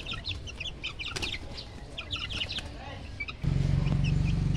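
One-month-old Gilmore Hatch gamefowl chicks clucking and cheeping in a pen, with scattered chirps throughout and a louder, steady low rumble joining near the end.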